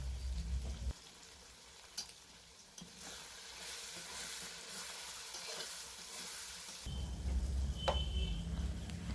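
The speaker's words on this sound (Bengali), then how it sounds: "সব মশলা একসাথে খুব ভালো করে কষে নেব" Spices with chopped tomato and turmeric cook in a pan for a village-style khichuri, a low continuous sizzle with a few spoon knocks and scrapes that grows louder toward the end.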